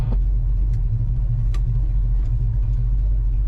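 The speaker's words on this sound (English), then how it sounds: "We have such a good exhaust sound." A 1968 Dodge Charger R/T idles with a deep, steady low rumble from its engine and exhaust, loud and close, with a few faint clicks over the continuous drone.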